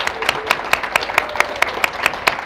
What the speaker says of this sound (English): I also want to make sure that we give a big round of applause to our students who asked great questions.